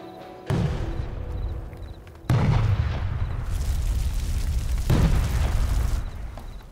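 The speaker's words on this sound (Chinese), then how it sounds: "西北方有民宅烟花爆燃，引发大火" Fireworks blowing up inside a house and setting it ablaze, in a historical drama scene: three loud, heavy booms go off a few seconds apart over a continuous roaring rumble.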